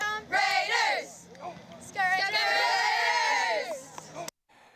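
High school cheerleaders shouting a spirited chant with crowd cheering, bright overlapping young voices in two loud bursts before cutting off abruptly.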